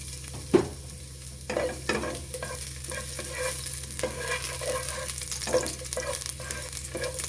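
Garlic frying in a little oil in a pan, a soft steady sizzle close by, broken by a few stirring scrapes and a sharp clatter near the start.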